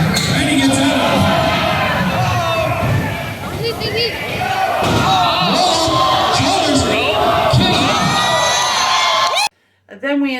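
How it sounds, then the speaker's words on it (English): A rabid wrestling crowd in Spokane cheers, yells and bellows at high volume, with thuds and slams from the ring breaking through. The roar carries almost to the end, then cuts out abruptly. "This SAPW crowd is rabid."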